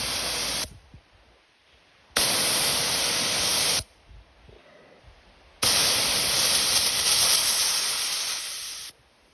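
A pepper spray canister fires hard hissing blasts from about 20 feet away, two long loud bursts of roughly two and three seconds separated by quieter gaps, the second tapering slightly at its end, with no voices.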